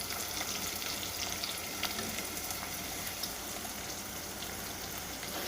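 Sliced onions cook in a pan until golden for a chicken and capsicum dish, a dense, constant, fairly loud sizzle like heavy rain, with no speech over it.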